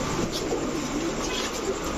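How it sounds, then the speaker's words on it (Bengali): A Rampuri female pigeon coos faintly and low behind constant broadband noise, with a few brief call phrases spread across the stretch. "এরপরে দেখাবো একটা রামপুরি মাদি কবুতর"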